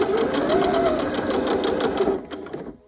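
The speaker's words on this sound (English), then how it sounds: "And back stitch." A sewing machine back stitches a denim dress seam in one steady, loud, close run of fast rhythmic stitching that stops abruptly at the end, with no talking.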